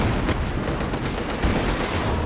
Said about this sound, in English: Katyusha going after those grenadiers, but they do dodge away from it quite cleanly.